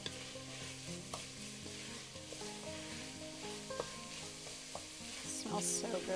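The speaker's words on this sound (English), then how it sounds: "I love the smell of onions and celery cooking." Onions and celery sauté in a pan, coated with garlic powder, pepper and salt for a creamy chicken potato soup, giving a steady close sizzle broken by repeated scraping stirs.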